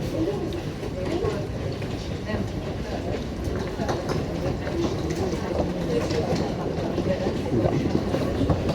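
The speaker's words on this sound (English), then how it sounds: "I'm gonna keep recording because I'm at the freight train, the first freight train of the day." A freight train rolls past on the railway near Gatwick Airport, a loud, continuous rumble with rhythmic clattering of wagons that persists throughout, close to the listener.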